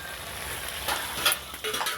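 Chicken cooks at night over a wood-fired stove, making a steady close sizzle with occasional scraping and stirring clinks.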